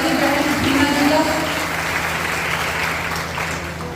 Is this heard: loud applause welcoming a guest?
yes